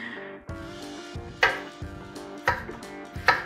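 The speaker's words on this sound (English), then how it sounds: "It just helps to keep them from turning while you're cutting up the rest of your potatoes." A knife chops potatoes into chips on a cutting board in a home kitchen, with a few sharp, evenly spaced cuts over a low background hum; no talk.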